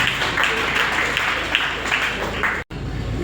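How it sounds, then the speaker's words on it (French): A crowd applauding continuously, the clapping loud and fairly even before a brief dropout near the end. "applaudissons Lukunga."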